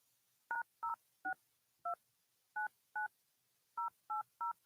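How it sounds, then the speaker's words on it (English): A telephone keypad redials a number: nine crisp dual-tone beeps in uneven groups, clear and close against near silence. "Let me redial the number back."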